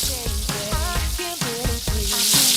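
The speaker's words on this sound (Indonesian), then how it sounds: "Nah baru deh kita berenangin ikannya di minyak goreng." Fish deep-frying in hot cooking oil in a wok gives a loud, continuous sizzle and crackle, with light background music underneath.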